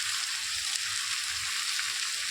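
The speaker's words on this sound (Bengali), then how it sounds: "সেটা আমি এবার একটু ভালো করে আদাটা কষিয়ে নেবো" Ginger paste frying with ground cumin and garam masala in a pan for khichuri, heard as a dense, steady, close sizzle that hisses evenly throughout, with faint low stirring movements beneath and no speech.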